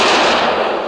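A single sharp gunshot bursts loudly and alone from the 1957 war film The Bridge on the River Kwai, with a bright crack that fades over a second.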